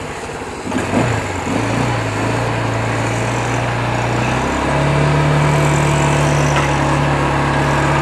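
An ATV in Thailand fired up with its electric start button: a short cranking burst catches into a loud, steady buzzing idle close by, then the engine steps up to a higher, fuller hum and holds there.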